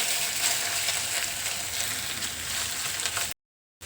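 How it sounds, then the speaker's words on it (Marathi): Ready-made ginger garlic paste sautés in a pan, a loud, steady, close sizzle filling the whole stretch before cutting off abruptly into silence. "अद्रक लसणाचा कच्चेपणा जाईपर्यंत ते परतवून घेतला आपण"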